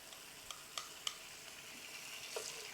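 Meat slices on a hot grill pan give a faint, steady sizzle with a few sharp clicks and scrapes early on, close up and with no talking.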